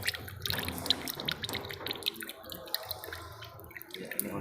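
Used engine oil mixed with engine flush drains out in a steady liquid trickle with close, irregular drips and splashes.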